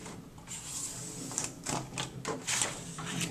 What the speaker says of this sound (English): go ahead and cut 8 inches right there